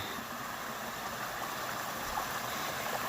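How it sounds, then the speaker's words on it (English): Water tumbles steadily down a 40-foot-long pondless waterfall with an Atlantic copper spillway bowl, a constant, even rushing wash heard fairly close, with no voices. "This is a over 40-foot long pondless waterfall that is an Atlantic copper spillway bowl."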